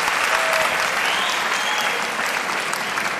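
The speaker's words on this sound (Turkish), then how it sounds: "Bana göre bir alkışı şimdiden hak ediyorsunuz." A studio audience at a Turkish talent show applauds steadily, a loud, even wash of clapping from many hands that continues without a break.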